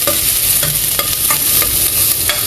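Cuttlefish adobo being stirred in a hot pan, a spatula scraping in short regular strokes every half second or so over a steady close sizzle and hiss of frying.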